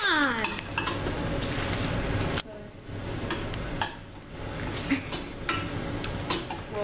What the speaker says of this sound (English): you want to just melt this chocolate. It'll melt pretty fast over the stove.